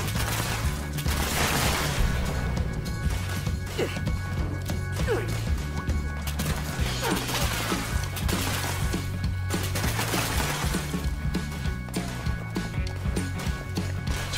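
Handmade rifle with the anti-armor explosive perk firing in Fallout 76, a steady stream of loud, punchy shots with explosive cracks, repeating continuously in close succession amid busy game noise.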